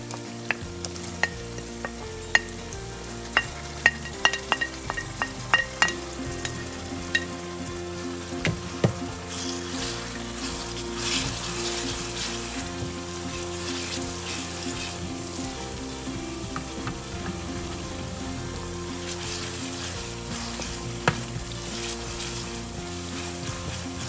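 Spices dry-roast in a pan for moong daal, a steady close sizzle with repeated sharp clinks and scrapes of stirring, busiest in the first half, with no talking.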